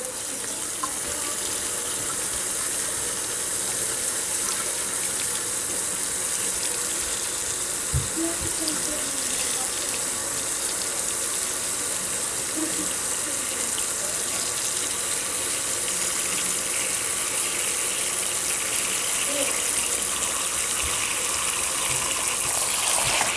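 Cold water running steadily from a kitchen sink tap over cut potatoes being prepared for fries, a continuous close gushing and splashing that holds at an even level throughout.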